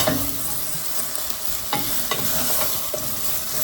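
Onions for a copycat Outback onion soup sauté in a pan, a steady close sizzle with a few faint stirring scrapes scattered through it.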